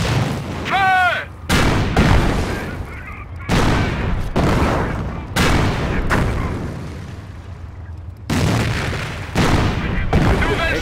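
Artillery guns firing in a WWII video game, a series of loud, close booms roughly every second, each followed by a rumbling tail, with a shrill whistle and shouted voices between shots.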